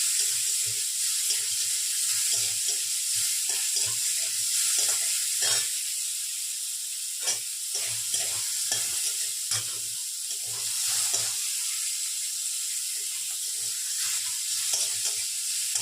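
Close, crackling sizzle of shrimp frying in hot oil that swells and settles, broken by intermittent stirring clatter over a long steady hiss.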